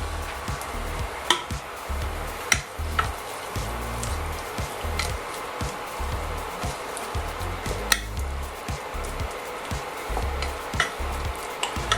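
Seafood sauce with white wine cooks in a pan, a soft steady sizzle and bubbling with occasional sharp clicks of a utensil against the pan, no talking.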